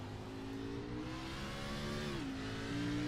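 A race car engine in a sim racing game at Sonoma Raceway drones steadily at high revs, its pitch holding then dipping briefly as a gear changes before climbing again, with no talk over it.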